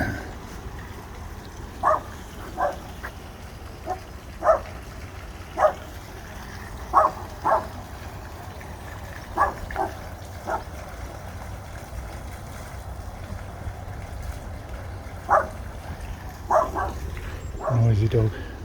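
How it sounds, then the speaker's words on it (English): A dog barks in short, scattered bursts at moderate distance in Abbey Gardens, a public park in Bury St Edmunds, over a steady low outdoor rumble with occasional nearby sounds. "that dog was too noisy for me"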